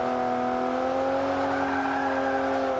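Car engine in the racing game Forza Motorsport 5, a steady loud drone with sustained harmonic whine that rises slightly, heard alone without talk.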